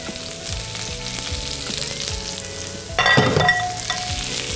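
Green beans frying with shallots and garlic in a hot pan, a steady close sizzle that swells into a louder crackling burst partway through, then settles back to an even fry. Nobody speaks.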